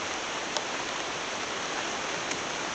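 Steady rain pouring down, a dense continuous hiss of falling water, loud and even, with no voices over it.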